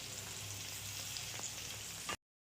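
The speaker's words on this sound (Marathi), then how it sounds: "दोन्ही साइडनी मस्त भाजून घ्यायचं आहे" Surmai fish fries in a pan with a steady, dense sizzle and crackle that continues unbroken at close range, then cuts off abruptly.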